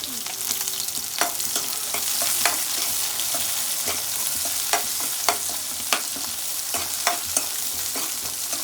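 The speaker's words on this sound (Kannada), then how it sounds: "ಈರುಳ್ಳಿ ಹಾಕಿ ಫ್ರೈ ಮಾಡೋಣ" Chopped onion frying in hot oil with mustard seeds in a pan for okra curry, a steady close sizzle broken by sharp stirring scrapes and occasional pops.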